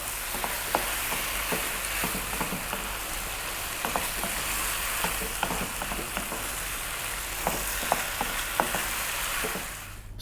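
Tuna tomato pasta fries over high heat with a constant loud sizzle, broken by regular scraping and knocking as a utensil stirs it around the pan. The sizzle carries on throughout with no talking.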